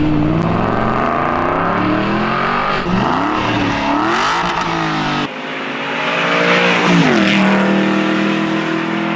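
A loud Aston Martin V8 Vantage engine roars continuously, revving up and down through several gear changes with a deep, throaty burble and no talking.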